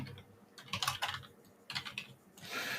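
Fingers type on a computer keyboard in quick, irregular bursts of close clicks separated by short pauses, heard alone without talk.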